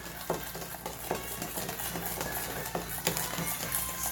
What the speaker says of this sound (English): Stir that in really good